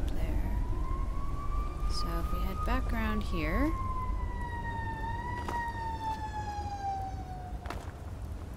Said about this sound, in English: Those sirens were kind of loud.